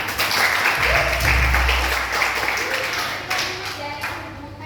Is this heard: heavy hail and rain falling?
no